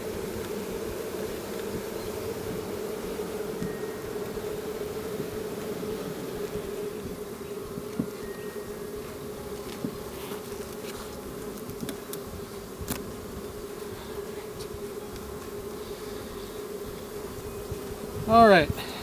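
Carniolan package bees being installed into a hive buzz steadily and continuously in a low drone, with a brief closer, louder burst of buzzing near the end.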